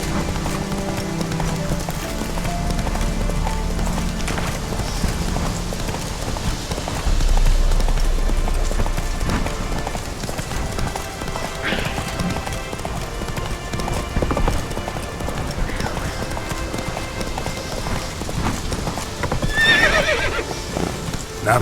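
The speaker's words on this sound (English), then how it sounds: "Not so fast, Roach" A horse in The Witcher 3 gallops with steady clip-clop hoofbeats over a low ambient bed, and near the end it whinnies clearly, with no speech.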